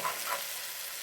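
Fish shallow-frying in a pan for a fish fry, a steady close sizzle of hot oil running continuously without pause, with no voices over it.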